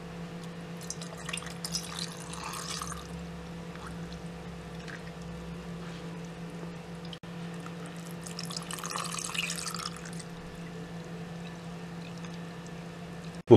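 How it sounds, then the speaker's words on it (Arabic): Date water and sobia mixture poured over dates in serving glasses: two soft bursts of liquid pouring and splashing, close and quiet, over a steady low hum, with no talking. "وهنصب عليه خليط مية البلح والسوبيا"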